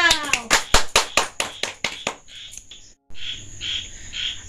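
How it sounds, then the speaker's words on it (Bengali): A few people clap for a grandmother who won a street-snack eating contest, about a dozen quick sharp claps in a rapid run that thin out and fade, followed by a faint chirping tone. "সবাই হাততালি দাও"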